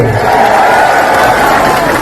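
A rally crowd claps and cheers together, a loud, continuous wash of applause and shouting that stays dense and unbroken from start to finish.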